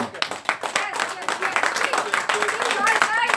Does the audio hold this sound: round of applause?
yes